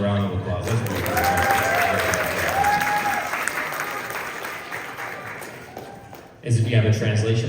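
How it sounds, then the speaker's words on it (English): Audience applause at a community concert in Bellevue, Washington: a broad wash of crowd clapping with cheering voices and bits of talk on top, which dips and then swells again near the end. "Give yourselves a round of applause."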